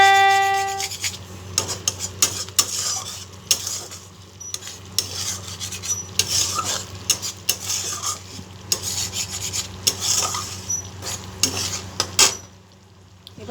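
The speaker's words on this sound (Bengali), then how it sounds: "এবার এই মশলাটাকে কষিয়ে নেব" Spice paste with cumin powder is sautéed in a pan: repeated scraping and rasping strokes of a utensil against the metal over a low, faint sizzle, in a steady uneven rhythm.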